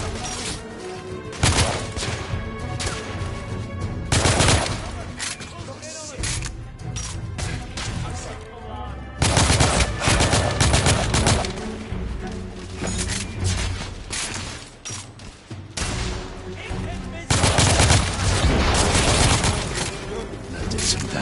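Rapid bursts of video game gunfire from Gachi Order, loud and close, coming in dense volleys with pauses between them, mixed with clanks and impacts.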